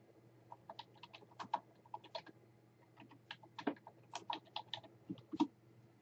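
Quick bursts of keystrokes on a computer keyboard, light and close, coming in irregular clusters of taps with short pauses, no talking.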